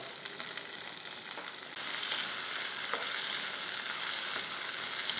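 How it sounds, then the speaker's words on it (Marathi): Vegetables such as carrots and cashews are sautéed in a pan for a no-onion, no-garlic masale bhaat, giving a steady, close sizzle that grows noticeably louder partway through and then holds even. "या भाज्या थोड्या परतून घ्यायच्या।"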